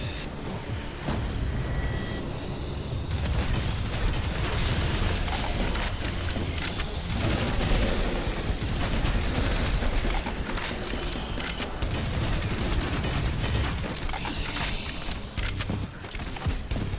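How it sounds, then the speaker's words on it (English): Dual SMGs firing nonstop in the old-school shooter Prodeus, a loud, dense automatic chatter that runs steadily throughout, layered with game sounds and heavy booming. "I really like the dual SMGs actually"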